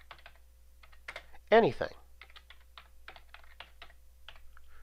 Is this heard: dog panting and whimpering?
no